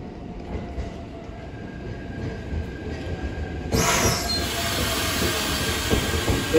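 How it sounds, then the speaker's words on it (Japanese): A two-car JR 115 series train rolls into Ueda station, a steady rumbling roar with wheels squealing, growing louder and brighter as it nears and pulls alongside the platform. "1番線軽井沢駅は2両編成で到着です。"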